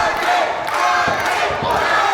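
A professional wrestling crowd at a live show, cheering and yelling in a dense, steady roar with scattered shouts across the whole stretch.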